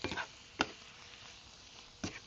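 Filipino food sizzles in a hot pan as a faint, steady hiss, broken by a few sharp clacks of a utensil against the pan. No one speaks.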